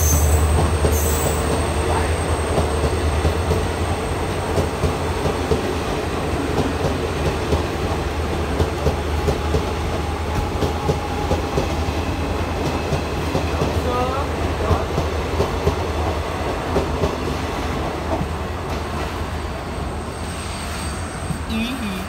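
The Bhagalpur–Gandhidham Express rolls through Viramgam Junction at night, a long, loud, steady rumble of wagons and rhythmic wheel clatter with squealing, while voices murmur faintly in the background.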